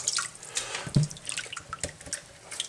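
Water splashes and drips in a bowl while raw conch is washed by hand, with irregular sloshing and trickling close by and no talking.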